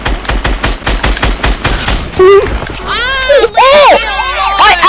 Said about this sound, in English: I'm using my heavy assault rifle